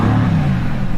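A Mercedes-AMG GT S engine idles with its sports exhaust valves open, giving a continuous deep, close burble with a steady low rumble and no voices.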